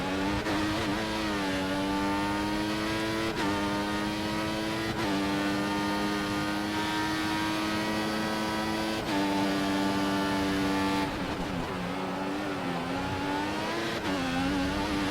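A Formula One race car engine in the F1 2014 video game revs high and steady, its loud, continuous whine climbing through the gears with brief dips at each upshift, close and unbroken throughout.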